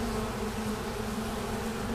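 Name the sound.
honeybees buzzing around released queen bee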